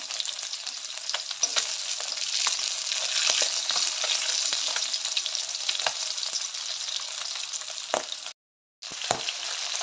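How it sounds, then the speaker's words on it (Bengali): Rita fish frying in oil, a dense continuous sizzle with sharp crackles and spatters throughout, close and steady, briefly cutting out near the end. "বন্ধুরা মাছ ভাজা হচ্ছে, এটা রিঠা মাছ বলে।"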